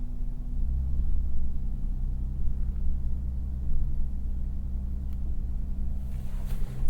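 A 2024 Lexus GX Overtrail+ crawls off-road at under one mile per hour with power to all four wheels, its engine a quiet, steady low rumble with faint crunches and bumps from the terrain.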